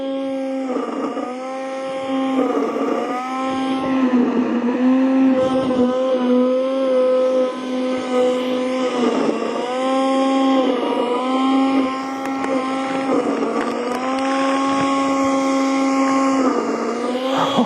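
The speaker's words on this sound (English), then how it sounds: "hear the motor roaring as it lets off a burning smell" A blender motor roars steadily while blending a mango smoothie, giving off a burning smell, with a loud harmonic whine that dips and surges several times as the jug is shaken, and no talking over it.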